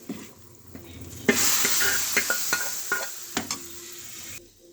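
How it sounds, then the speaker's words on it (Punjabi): Spice masala tipped into a pot of mung and masoor lentil dal, setting off a loud, steady sizzle with a few sharp stirring clacks, then cutting off abruptly near the end. "ਹੁਣ ਅਸੀਂ ਆਪਣੀ ਦਾਲ 'ਚ ਪਾ ਦਾਂਗੇ ਸਾਰਾ ਮਸਾਲਾ"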